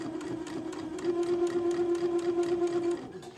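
A sewing machine stitches lace onto a gown, a close, steady mechanical hum with fast rhythmic needle clatter that speeds up briefly and then slows to a stop.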